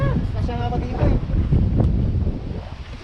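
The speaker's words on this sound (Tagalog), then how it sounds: "Ang lakas ng hangin." Strong wind blows against the microphone on a fishing boat near a rocky shoreline, a loud, close buffeting roar mixed with water sounds while people talk.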